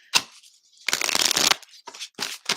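A deck of playing cards is shuffled close by during a card reading, with a riffle burst, a longer bridging flutter, then several quick separate riffles, and no talk over it.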